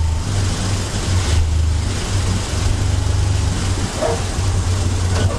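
A 1951 Hudson Hornet's engine drones steadily through a race lap, a loud, continuous low rumble with mild swells as the throttle shifts, and no voices over it.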